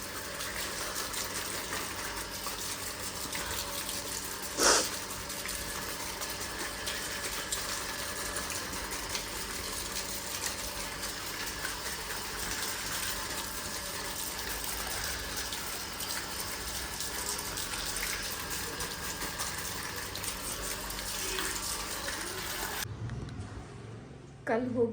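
Mango leaves rinsed under a running tap while preparing for a home puja: a steady gushing rush of water runs close and continuous for about 23 seconds, then cuts off.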